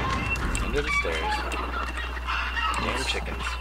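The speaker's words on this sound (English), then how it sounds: "Damn chickens." Chickens in the video game Hunt: Showdown cluck and squawk in a busy, fluttering stream over a steady low hum, fairly close, with no one talking.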